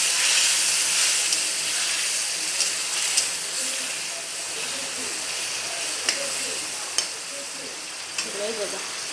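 Fish pieces fry in hot oil in a loud, steady sizzle with a bright steamy hiss, broken now and then by small pops and spits, while a voice speaks faintly underneath.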